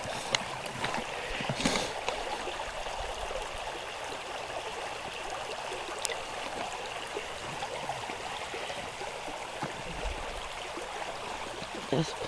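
A small waterfall and river rapid give a constant rushing, trickling wash of water, moderately faint and steady, with a few sharp knocks and splashes scattered across it.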